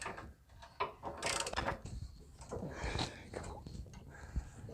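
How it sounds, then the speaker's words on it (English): A socket wrench ratchets in short clicking bursts while loosening a retainer bolt on a 2004 Chevy Suburban 2500 4WD front suspension, with a voice murmuring faintly over the work. "we can go at it with a socket wrench now"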